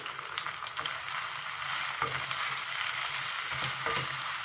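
Peppers and onions frying in olive oil in a pan, with an even, continuous sizzle and soft stirring sounds throughout.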